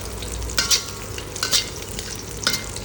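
Ginger, garlic and green chilies fry in a wok, a steady close sizzle broken by three short scraping stirs at roughly one-second intervals, with no voices.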